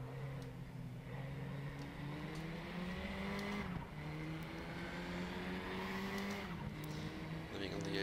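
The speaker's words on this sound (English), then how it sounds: "Just blipping the throttle" A KTM race car in RaceRoom hums steadily at moderate volume, its engine pitch rising and dipping with brief throttle blips, while someone talks over it.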